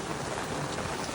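Heavy rain pours steadily outdoors, a dense, even hiss of drops drumming on surfaces, loud and close with no break across the short stretch.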